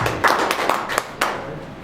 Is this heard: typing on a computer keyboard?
no